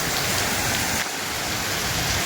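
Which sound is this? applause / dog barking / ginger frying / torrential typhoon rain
torrential typhoon rain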